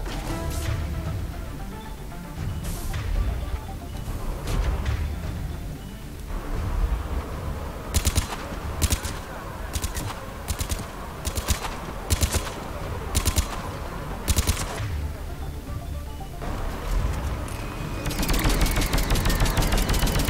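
Automatic gunfire in Mass Effect 3 crackles in bursts of rapid, sharp shots over steady rumbling combat noise, with a dense, louder barrage at the end.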